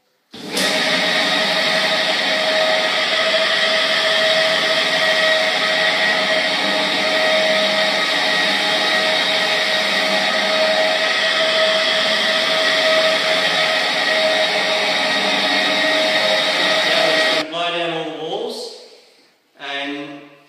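A floor machine with a maroon scuffing pad drones loudly and steadily with a bright whine for most of the stretch. It cuts off near the end, when a voice starts talking.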